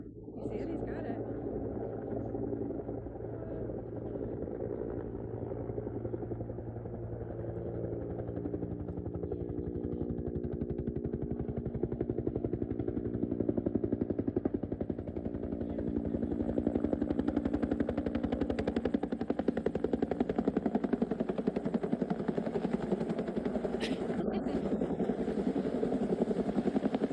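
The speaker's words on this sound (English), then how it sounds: "Helicopter coming down, it's cutting the tree. That's the spray of the water." A helicopter hovers close by while trimming a tree with a saw and spraying water, a steady loud rotor drone with low rhythmic chopping and a rising hiss of spray, while someone talks over it.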